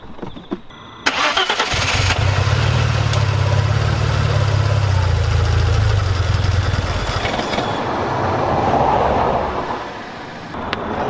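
A BMW E36 track car's engine cranks for several seconds with a steady whirring starter, then catches and runs rough with a choking note before settling into a loud, close idle; no voices.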